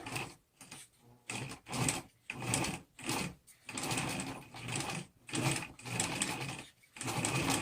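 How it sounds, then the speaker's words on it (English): A sewing machine zigzag-stitches a fabric face mask, running in short bursts of rapid mechanical clatter separated by brief pauses, close and clear, with no voices. "you use the zigzag to sew this into place."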